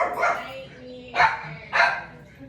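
Three loud dog barks, close by and spaced about half a second to a second apart, over a low background hum.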